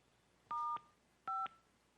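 Two short telephone keypad DTMF tones sound on a phone conference line, each lasting about a quarter second and separated by a brief pause, clear and moderately loud over faint line hiss.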